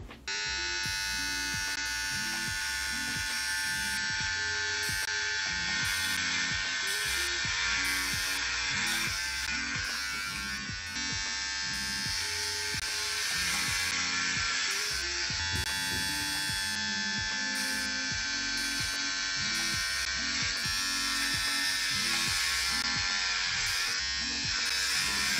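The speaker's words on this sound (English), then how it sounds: "Now I'm gonna shave this off." Electric hair clippers buzz loudly and steadily for the whole stretch, shaving layers off a person's hair, with a dense tonal whine that wavers slightly as the blades move through the hair.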